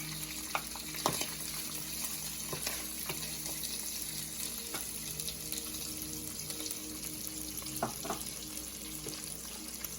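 Smoked fish and onions fry together in a pan with a steady, even sizzle throughout, with occasional clicks and clinks of utensils nearby.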